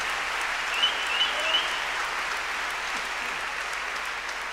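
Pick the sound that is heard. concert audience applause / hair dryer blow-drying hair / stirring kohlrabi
concert audience applause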